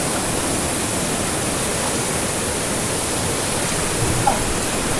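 Tabon Falls in San Luis, Aurora Province, a strong waterfall whose rushing water makes a steady, dense roar filling the whole clip, with no break or change in level.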